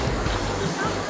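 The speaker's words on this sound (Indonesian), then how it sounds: "keindahan air terjun setinggi 10 meter ini sudah mulai terlihat" A 10-metre waterfall pours in a steady, dense roar of falling water, close and loud throughout, with a voice talking over it.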